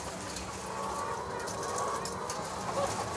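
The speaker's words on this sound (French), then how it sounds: "Là, nous avons une colonie de 20 poules" A colony of twenty hens in a large cage clucks and murmurs continuously, with a dense, busy background chatter of birds throughout.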